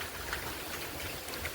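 Steady rain pours down at a work site during the first heavy downpour of the season, a continuous soft hiss of drops with no pauses, heard faintly and evenly throughout.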